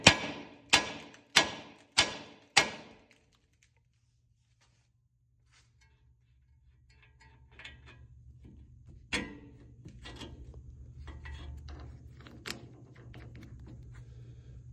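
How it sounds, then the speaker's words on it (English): Four sharp, evenly spaced metal strikes of a hammer on the tie rod end of a 2004–08 Ford F150 ring out close and loud at the start, followed by quiet and then low rumbling shop noise with scattered clanks. "smack this with a hammer so that'll fall out"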